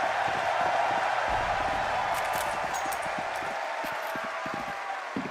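Esports arena crowd at a Counter-Strike 2 match keeps up a steady, dense roar of voices and clapping that fills the whole stretch at an even level.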